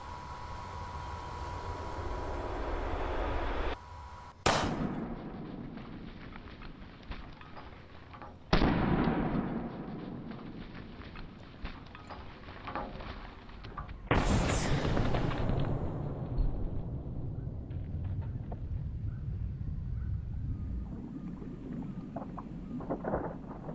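Air compressor cannon blasting a watermelon, three sharp loud booms spaced several seconds apart, each followed by hissing rush and rumble, with a steady background noise and no clear talk.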